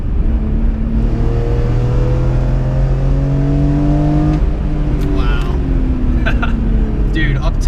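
A 2004 BMW M3 engine pulls hard with strong induction noise, its pitch climbing steadily through the gears in a sustained in-cabin drone as a voice talks over it.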